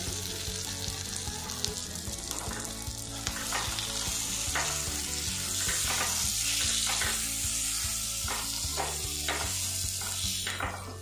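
Pointed gourd and egg sizzle in oil with a little turmeric, a constant close frying hiss under repeated stirring and scraping as the pieces are turned to brown, with no talking.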